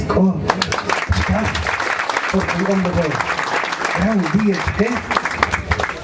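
A crowd at a community gift-giving event in Joyabaj, Quiché applauds in a steady wash of clapping while a voice talks over it throughout.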